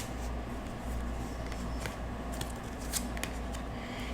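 Color cards shuffled for a reading, a steady papery rustle with a few sharp flicks and snaps standing out near the end, close and fairly quiet with no talking.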